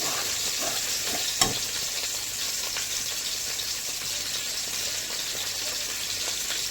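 Garlic sizzles steadily in a hot pan as turmeric and chili powder go in, a continuous close frying hiss with soft stirring scrapes and one sharp knock partway through.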